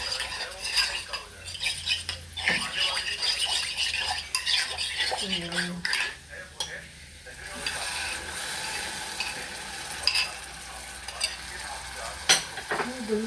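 Food fries in a pan with curd added, giving a constant close sizzle broken by repeated scraping and clinking as a utensil stirs against the pan, with no voices heard.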